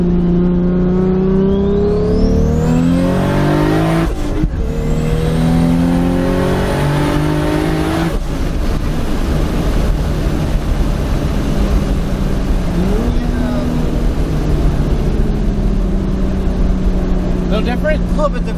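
Toyota Supra engine revving hard after a downshift, the pitch climbing and falling through gear changes, loud and close inside the car with people talking over it.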